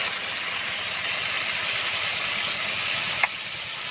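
Ground spice paste sizzles in hot oil in a pan for a home-style curry, a steady close hiss throughout with one small clink near the end.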